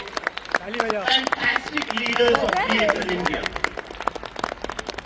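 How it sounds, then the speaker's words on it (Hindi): A crowd at a DXN India leadership event claps steadily while someone speaks loudly over the applause through a sound system. "सब लोग तालियां बजाइए इन लोगों के लिए"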